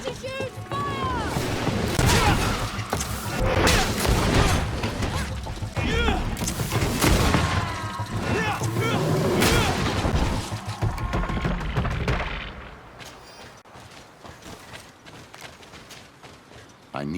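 Gunfire and booming grenade blasts in the game GreedFall, a dense continuous barrage of shots and explosions with voices shouting over it, then dropping to quieter sound near the end.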